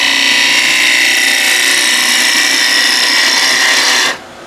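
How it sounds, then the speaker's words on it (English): A wood turning gouge cuts into wood spinning on a lathe, giving a loud, continuous rasping hiss that holds steady for several seconds and then abruptly stops, leaving the lower hum of the machine. "Once you're in the wood, you can open the gouge and drop the handle slightly."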